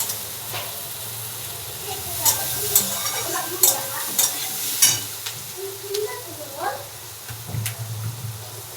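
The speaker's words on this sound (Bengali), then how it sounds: "এইদিকে পেঁয়াজটা ভাজতে বসিয়ে দিচ্ছি" Onions fry in a pan with a steady close sizzle, while a utensil stirs and scrapes in short bursts and a faint voice murmurs in the background.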